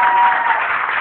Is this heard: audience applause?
yes